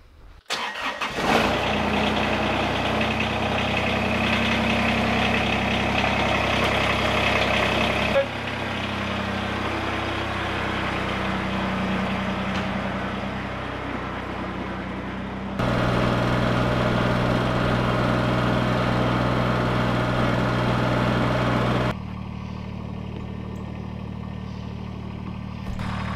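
A tractor engine being fueled and readied with chains for a ditch recovery, a steady mid-pitched diesel-like drone that starts up and idles loudly with a few abrupt shifts in tone.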